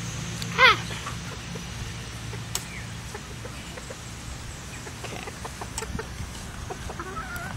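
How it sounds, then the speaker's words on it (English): A chicken gives a single loud cluck close by, followed by quieter scattered clucks and outdoor ambience. "the chickens are still trying to get my flower"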